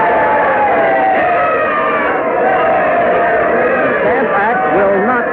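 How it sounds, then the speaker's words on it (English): Crowd cheering wildly at a colonial-era Stamp Act protest in a radio drama, a dense, continuous roar of many voices filling the whole span, loud and sustained with shouting rising out of the mass. "The crowd cheering wildly there."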